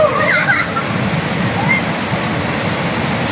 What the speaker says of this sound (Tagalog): Malakas yung agos, nakakatakot to eh.